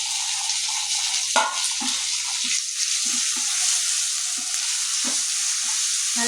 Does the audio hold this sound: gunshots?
no